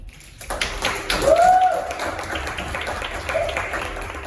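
Scattered clapping and applause fill the space after a poetry performance at a fine arts academy in Missouri while a train rumbles past with a long horn-like tone rising over the crowd noise.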